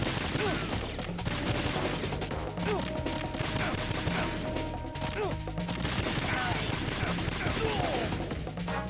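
Rapid bursts of video-game gunfire from Metal Gear Solid 2: Substance, dense and continuous for nine seconds with scattered loud cracks over a busy electronic backdrop, with a voice heard faintly at times.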